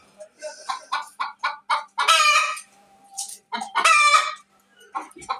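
Light Brahma chickens, both American and Columbian varieties, kept in a pigeon cage, cluck in a steady run of short calls, and two louder, longer crowing bursts break in. The birds sound close and there is no talk.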